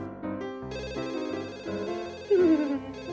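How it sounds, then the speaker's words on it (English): A cell phone ringing with a bright melodic ringtone, a layered electronic tune of stepping notes with a rising sweep near the end, moderately loud and without speech. "Oh, my phone!"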